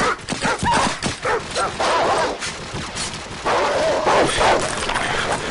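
Dogs bark and yip in the Call of Duty 4: Modern Warfare video game during a stealth mission, several sharp barks coming close and loud in quick bursts with some clatter around them.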